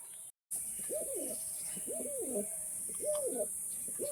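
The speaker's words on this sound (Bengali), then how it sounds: "পায়রা কিন্তু ডাক পুরো ওকে আছে" Fancy flying pigeons, Kalpetia, Chatial, Kalsira and white Madras pairs kept for sale, cooing: three soft, rolling coo phrases at an even pace, fairly faint, over a steady high background tone.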